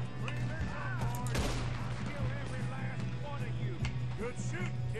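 Gunfire rings out in the video game Red Dead Redemption 2, with a sharp shot cracking near the middle amid distant reports, while voices talk over the shooting.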